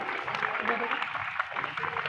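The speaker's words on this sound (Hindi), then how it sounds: "उसके बाद मैं गुजारिश कर रहा हूँ आरजू को ये मेडल और जो है सर्टिफिकेट पेश किया जा रहा है आपकी भरपूर तालियों में।" Applause from the audience at a beauty parlour course launch during a medal and certificate presentation, soft steady clapping under a voice speaking throughout.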